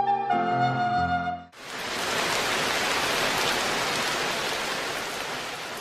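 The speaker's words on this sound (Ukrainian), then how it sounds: "Нарешті пішов дощ." A brief musical phrase gives way abruptly to steady, even rainfall, a dense hiss of drops that continues unbroken to the end.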